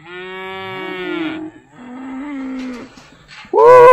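Cattle mooing loudly and close on a farm, several long drawn-out lows one after another, with a sharper louder call at the end.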